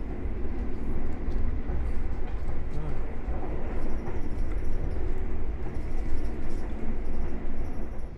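Inside a KA Argo Semeru executive-class train running on the southern line, a steady low rumble of wheels and carriage with continuous rhythmic clatter and a faint high whine, heard up close without talking.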